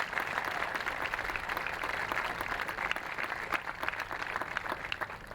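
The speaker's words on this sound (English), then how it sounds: "I'd ask you to give your Baton Rouge delegation and these other legislators a round of applause" Audience at a university building groundbreaking ceremony giving a sustained round of applause, a dense, continuous patter of many hands clapping at moderate distance outdoors.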